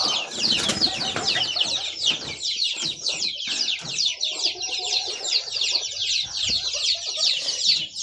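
Chickens clucking outdoors in a field in Laos at the edge of rice paddies, repeated close clucks with a burst of wing flapping near the start, under a constant high-pitched insect drone.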